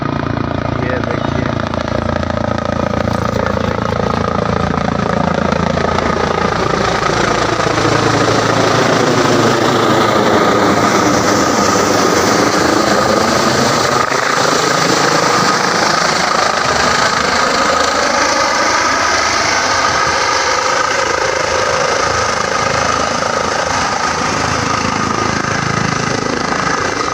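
Helicopter landing amid smoke at a political rally, a loud continuous rotor and engine roar with sweeping pitch changes as it descends, crowd noise and voices underneath throughout.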